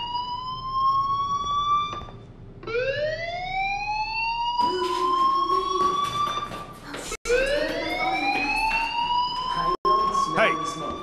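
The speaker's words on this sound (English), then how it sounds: "do you hear that fire alarm? That means you should be outside." A fire alarm in the Life is Strange video game wails in repeated rising sweeps, loud and close, with short gaps between cycles and a voice talking quietly underneath.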